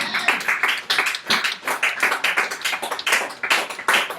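A church congregation clapping together, a dense, lively burst of many hands in a quick uneven rhythm, close and loud, with no voices over it.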